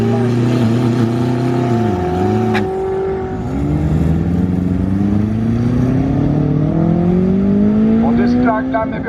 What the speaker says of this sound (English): the car like jumps, and then it doesn't do anything, and then it drives away slowly